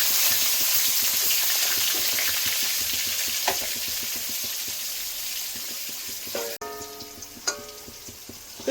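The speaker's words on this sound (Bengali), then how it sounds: "পেঁপেগুলো ভেজে নেব।" Raw papaya pieces sizzle steadily as they fry in a pan, with a continuous crackling hiss, occasional stirring scrapes and a few clinks near the end.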